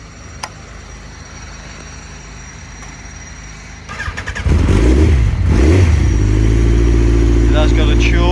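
A Yamaha XJR1300 motorcycle engine cranks and fires after a few seconds of quiet background, then settles into a loud, steady running note with throttle blips, warmed up without the choke.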